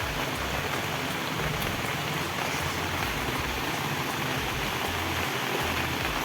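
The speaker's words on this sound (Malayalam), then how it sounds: "നല്ല മഴയുണ്ട് കേട്ടോ മഴയൊക്കെ പെയ്ത് തുടങ്ങി" Heavy monsoon rain pouring steadily outside a Kerala home kitchen, a dense, even wash of drops drumming on surfaces close by, continuous and loud with no voices.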